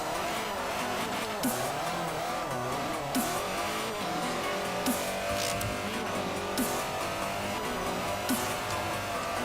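Toyota AE86 TRD drifting in reverse through corners in Forza 4, tyres squealing continuously over a steady engine drone, with sharp periodic bursts of skid noise every couple of seconds.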